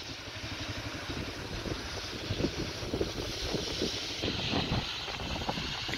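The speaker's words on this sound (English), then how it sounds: "boy, that wind generator is hauling butt" A small wind generator spins fast in strong wind outdoors, making a constant whooshing roar mixed with gusty wind buffeting at the microphone, steady and fairly loud throughout.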